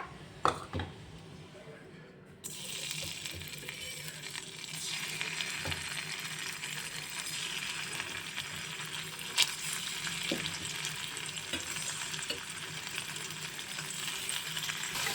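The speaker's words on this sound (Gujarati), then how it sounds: "હવે આપણે પનીરને ઘીમાં રોસ્ટ કરી લેશું એટલે ગોલ્ડન બ્રાઉન સુધી એક બાજુ કરી લઈશ" Paneer pieces roast in ghee in a kadai with a dense, steady sizzle close up. A few clinks and a short quieter stretch come at the start, then continuous crackling frying.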